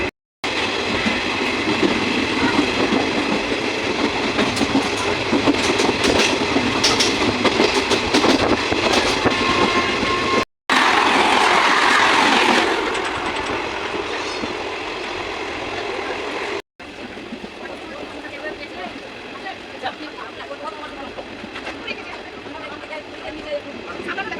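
A passenger train runs at speed, heard from inside a general compartment, with a loud continuous rumble and rattle, brief cuts and a shift in tone partway, and voices faintly in the background.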